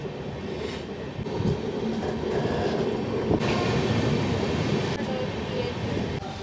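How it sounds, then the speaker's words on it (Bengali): Kriya Yoga Express arriving at platform three of Ranchi Junction, a steady close rumble of rolling railcars with faint wheel clatter throughout, no talk over it. "তিন নম্বর প্ল্যাটফর্মে আমাদের ট্রেন এসে ঢুকেছে"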